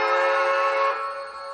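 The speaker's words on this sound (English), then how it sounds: "So now we're back to bell and whistle." A Bachmann HO scale 2-10-0 Decapod model steam locomotive with WOWSound gives a short steam whistle blast from its sound decoder, a steady tonal chord that holds briefly and then tapers.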